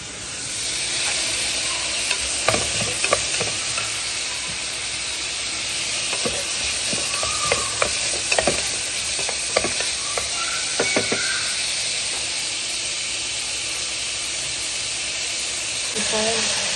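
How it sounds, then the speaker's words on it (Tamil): Onions and crushed garlic sautéing in a pan for a Tamil tomato bhaji, a steady close sizzle and hiss with occasional stirring scrapes, while a voice talks over parts of it. "வெங்காயம் நல்லா வதங்கட்டும்."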